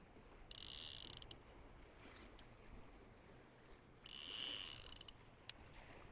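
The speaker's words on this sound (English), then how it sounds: "I'm gonna turn the clicker off because you guys hate that" A fishing reel's clicker ratchets in two short bursts while trolling lead core line with a 12-pound leader for lake trout, giving a faint rapid buzzing over quiet background.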